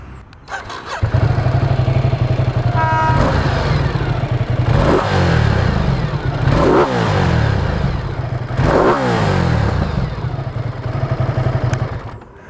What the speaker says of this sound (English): This twin cylinder motor does not sound like a twin, it is so very rough.